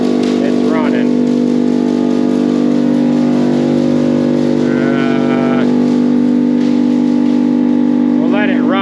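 A silo unloader blower on a farm drones loudly and steadily, a powerful continuous mechanical roar with a strong hum, with voices talking over it.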